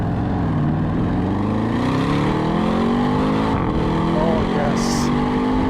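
An Audi RS6 wagon in Dynamic mode accelerates hard from inside the cabin, its engine note climbing steadily through the gears with a brief shift, loud and continuous under a voice.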